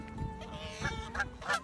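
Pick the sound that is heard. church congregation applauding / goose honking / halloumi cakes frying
goose honking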